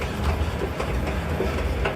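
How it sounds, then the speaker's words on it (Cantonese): Aboard a train running from Lisbon's Rossio station to Sintra, a continuous rolling rumble carries faint rhythmic rail clicks and rattles, steady and close throughout. "由里斯本去到呢個新特拉，我哋就選擇咗坐火車，車程大約係40分鐘到。"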